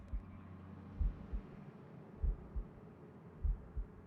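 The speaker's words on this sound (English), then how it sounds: "Hear that heartbeat a lot, just because I take a bit of damage with these." A low-health heartbeat from the video game Total Overdose, with paired, muffled low thumps repeating about once a second over a quiet hum.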